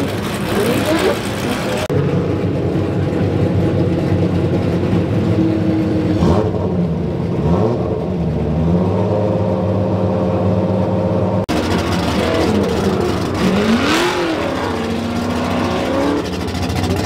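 A drift car engine starts and revs hard, a loud, close, continuous roar with rising and falling pitch swings, while people talk over it.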